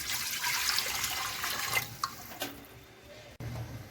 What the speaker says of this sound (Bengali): প্রেসার কুকারে জল দিয়ে দেব।